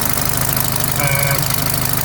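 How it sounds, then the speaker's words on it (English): A BMC car engine with a cracked exhaust manifold runs steadily up close, a continuous loud rumble with a rapid rhythmic pulsing throb from the leaking manifold, with no talking. "the manifold is cracked there. I can actually feel it popping from under my hand there."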